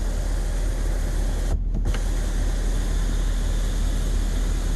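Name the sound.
Ford F-350 twin panel sunroof motor moving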